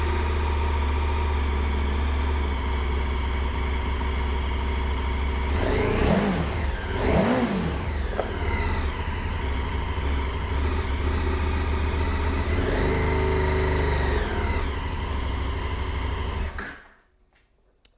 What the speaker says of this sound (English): If you haven't heard the KTM 1290 Super Adventure Sport 2022 exhaust, prepare to be not impressed.